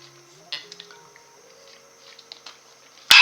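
Someone takes a few quiet sips of water, with soft wet swallowing and small liquid clicks at close range, then a sudden loud crinkling clatter at the very end.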